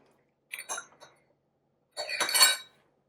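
Two short bursts of bright glassy clinking, an ice cube knocking against a glass of water, separated by a brief pause; close and fairly quiet.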